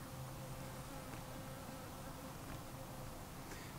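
Bees buzzing steadily around an open hive during a small honey harvest on an organic farm, a continuous close drone with no speech.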